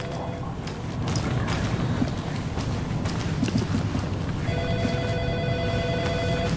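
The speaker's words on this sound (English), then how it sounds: "He really needs to answer that phone." Telephone ringing in the horror game Alan Wake II, a steady electronic ring emerging clearly near the end over a background of game ambience and footsteps, with no speech.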